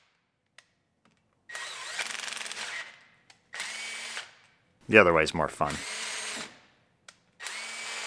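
Bursts of a power tool driving a bolt to push a brake rotor off the hub on a GMC Yukon, several whirring runs separated by pauses, with someone speaking briefly between them.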